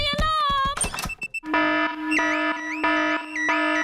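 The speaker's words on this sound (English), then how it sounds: "Daddy Pig has set off the noisy house alarm." An alarm goes off in a Peppa Pig stop-motion cartoon house, a loud repeating electronic warble with a steady low buzz beneath, starting after a burst of short clattering tones and hits.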